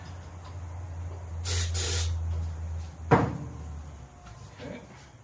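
Starting fluid sprayed into a small engine's carburetor in two short, close hissing bursts, followed by a sharp click and quiet handling noises under a low background hum.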